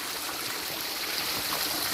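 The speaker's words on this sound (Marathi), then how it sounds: "गोमुखातून पाणी येत आहे" Water pours steadily from a cow-mouth spout at Gupt Godavari, a constant soft rushing and trickling with no pauses and no voices.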